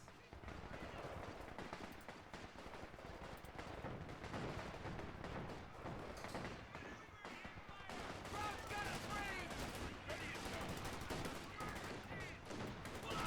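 Mobile machine gun teams firing in a World War II Company of Heroes 2 Ardennes Assault battle, a dense continuous rattle of gunfire with scattered bursts layered over a busy battlefield din, steady and sustained throughout.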